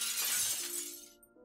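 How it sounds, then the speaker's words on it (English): Glass shatters in a single sharp, bright crash that spills into a brief tinkling decay, then trails off into a faint lingering tone as things go quiet, heard from a room below. "Something shattered upstairs."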